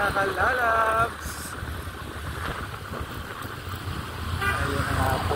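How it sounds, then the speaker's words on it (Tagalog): Road traffic in Quezon City with car horns, heard as two tonal horn toots, one at the start and one near the end, over a steady engine and road rumble. A voice talks over the traffic. "Ayun na nga po ang sinasabi natin sa traffic."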